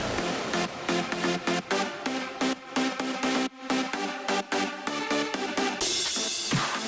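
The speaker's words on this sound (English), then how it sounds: "You might recognize this track from my how to make an EDM track from start to finish." An electronic dance track plays back from Ableton with a steady four-on-the-floor beat, punchy kicks and layered synths, loud and continuous, ending in a bright noise swell; no one talks.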